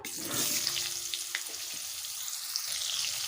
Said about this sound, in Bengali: ওই একই তেলে আমি পটলগুলোকে ভেজে নেব